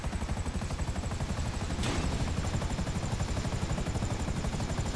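Helicopter in Grand Theft Auto V, its steady rotor chop pulsing continuously and loudly throughout with a single brief sharp burst partway through, no voices.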